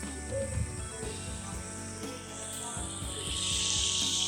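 Kolhapuri mutton curry boils in a pot with a steady bubbling hiss that swells louder toward the end, heard close and alone.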